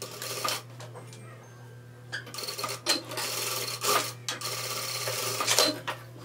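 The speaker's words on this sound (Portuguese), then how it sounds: "Então, eu vou ajeitar aqui o franzido e vou costurar aqui." Sewing machine stitching a gathered dress seam, heard in several short bursts separated by pauses, with a steady low motor hum underneath and fabric rustling close by.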